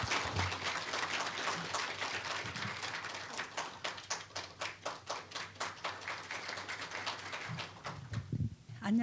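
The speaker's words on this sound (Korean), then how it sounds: "최연애 사장님을 큰 박수로 맞이하여 주시길 바랍니다" Audience applause at a Korea Gas Corporation forum on ESG management, greeting the company's president as she takes the stage; steady hand clapping from a seated crowd that thins into scattered claps and fades near the end.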